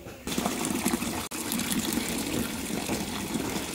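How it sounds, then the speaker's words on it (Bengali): Water gushes steadily from an outdoor tap as Malabar spinach leaves are washed beneath it, a loud continuous splashing stream broken only by a brief cut midway, with no voices. "আর বৌদি এখানে চলে এসছে, এই যে কলপারে, তো পুঁই শাকগুলো এখানেই ধুয়ে নেবে।"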